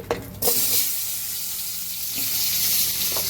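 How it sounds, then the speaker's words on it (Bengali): Potato and taro pieces frying in hot oil left from frying hilsa fish for a Bengali-style recipe, giving a steady, close hiss and sizzle throughout with a few soft clinks near the start. "আর কচু এগুলো আমি ভেজে নেব"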